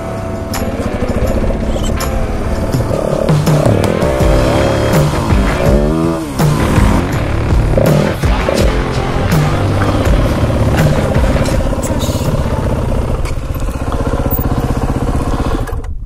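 A motorcycle engine runs loud and steady close by, a dense continuous drone with rising and falling revs throughout, no talk over it.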